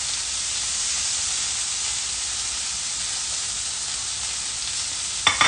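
Food sears in a pan with a steady, dense sizzle and hiss throughout, close and even, ending with a couple of sharp clinks.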